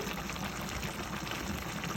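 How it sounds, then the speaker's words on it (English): Hot water poured into a pot of green beans and potatoes cooking on the stove, a steady close splashing and trickling flow that runs continuously without a break. "I'm going to add a little bit more hot water"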